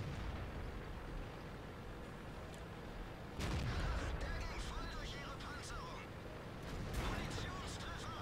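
A Leopard 1 tank's ammo rack detonates in a World of Tanks-style battle on South Coast: a sudden heavy explosive burst with sharp crackling debris follows a steady low engine rumble, then a second loud blast near the end, with voice chatter underneath.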